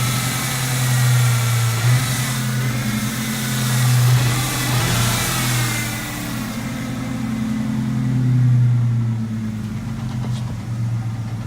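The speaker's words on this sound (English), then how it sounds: "here's a quick video of the car running" A 2000 Ford Mustang V6 with a freshly swapped intake runs near the microphone, idling with a steady low rumble and a couple of gentle throttle blips that swell and fade, no talking.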